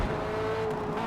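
A C7 Corvette race car in Forza Motorsport holds a steady, loud engine drone at Grand Oak Raceway, a sustained buzzing tone with little change across the short moment, no talking.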